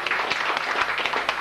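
Steady applause from a small group at a military academy lieutenants' graduation, dense clapping throughout with no voices on top.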